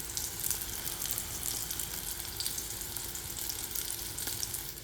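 Stuffed bitter melon fries in a pan with a steady, moderate sizzle and crackle of oil, continuous and close, with no voices over it.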